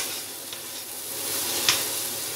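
Grated carrots simmering in milk over a high flame for gajar halwa, a soft continuous bubbling hiss with one faint scrape, close and fairly quiet, no talking.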